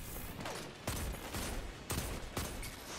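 Loud sniper rifle shots ring out in the first-person shooter Destiny 2 during PvP play, three or four sharp cracks spaced about a second apart over a busy background of game noise.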